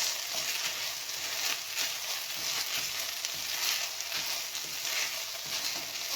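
Vegetable biryani rice sizzles steadily in a pan as it is stirred and turned, a continuous, even frying hiss at close range with faint scraping underneath.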